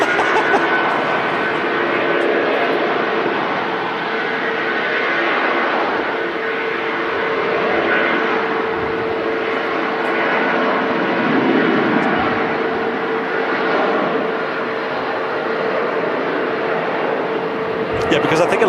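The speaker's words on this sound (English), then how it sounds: "I'll finish this after this Jet 275 goes, well, appreciate this sound first" A Jet2 airliner takes off at Manchester Airport, its engines producing a loud, sustained roar that swells and ebbs gently throughout, with people talking over it.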